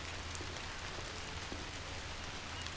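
Steady rain patters down on a dark London street in a video game, a soft, even hiss with faint scattered drops and no talking.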